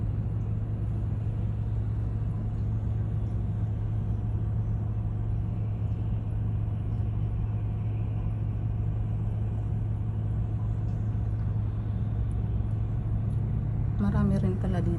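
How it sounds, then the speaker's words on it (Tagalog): Road vehicles pass nearby in a steady, low traffic rumble that continues throughout, with faint voices in the background. "Marami rin pala ditong mga sasakyan."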